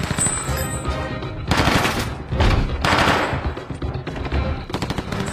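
Rapid automatic gunfire from police during a hostage rescue training scene in an action film, loud bursts and fusillades with brief gaps, dense and close throughout.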